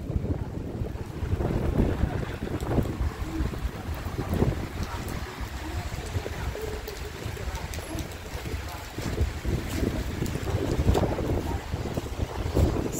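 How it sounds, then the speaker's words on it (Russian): Strong wind buffets the microphone outdoors in a cold tundra setting, a loud continuous roar with gusty swells and no speech heard. "Сильный ветер."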